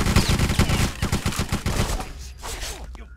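An oversized gun in Bloodrayne fires a rapid burst of loud, evenly spaced shots for about two seconds, then the fire tapers off into fainter booms and echoing game sound.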